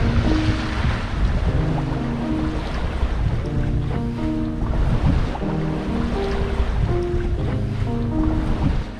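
A 30,000 pound gaff-rigged ketch sails on the open sea, with a continuous rush of water along the hull and wind noise holding steady throughout.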